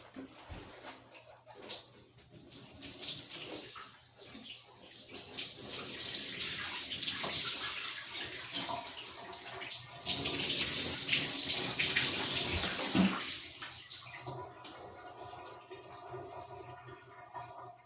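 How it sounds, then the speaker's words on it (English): Water poured over 4c hair to wet it during a deep-conditioning routine done outside the shower, a steady splashing and trickling stream that runs for most of the stretch and trails off near the end, with no talk over it. "I'm just using the water that I have to kind of work and get my hair wet"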